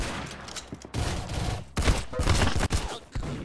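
Gunfire from the Roblox Arsenal video game crackles in several loud, sharp bursts and rapid volleys, close and alone without talk.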